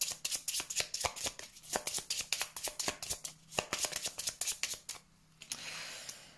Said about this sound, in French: Allez, on y va avec le tarot et on prend l'énergie pour la semaine prochaine. Alors, mettre les cartes dans l'ordre.